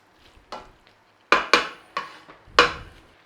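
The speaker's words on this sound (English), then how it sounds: "Just stir it all in." Puttanesca sauce is stirred through spaghetti in a pan, giving several close, wet scraping swishes and clacks of a utensil against the pan in irregular bursts over a faint sizzle, with no voices.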